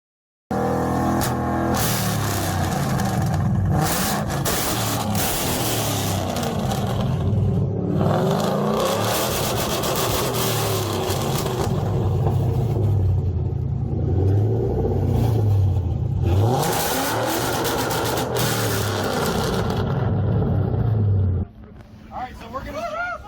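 A fully built "Black Widow" Mercury Marauder at an exhaust competition revs hard for about twenty seconds, loud and close, its deep exhaust rising and falling in repeated surges before cutting off. Voices are briefly audible afterward.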